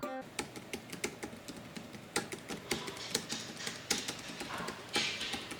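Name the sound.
typing on OKER BT-033 foldable wireless Bluetooth keyboard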